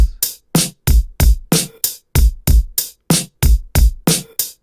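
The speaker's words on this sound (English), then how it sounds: "this is a MIDI clip with some drums" A programmed MIDI drum beat plays alone, with about fifteen punchy, evenly spaced hits of kick and snare cutting through silence in a steady, loud rhythm.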